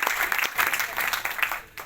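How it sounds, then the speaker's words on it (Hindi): An audience claps loudly for a contest achiever at a direct-selling business event, a dense burst of applause that continues briefly. "विजय सोरेन जी के लिए जोरदार तालियां"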